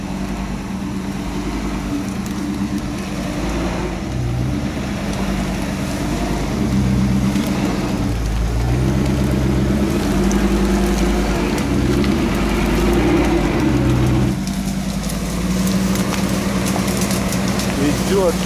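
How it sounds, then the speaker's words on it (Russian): A GAZ-66 truck engine drones loud and steady while driving through swampy brush, a continuous low rumble with people talking over it. "Решили попробовать на шишиге проехать по новой дорожке."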